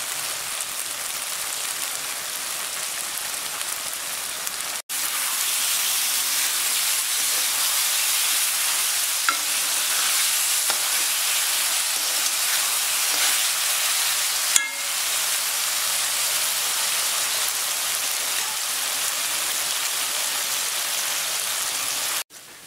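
Beef dry roast masala frying in oil in a pan, a loud continuous sizzle and hiss that runs steadily and close throughout, with a brief break near the start.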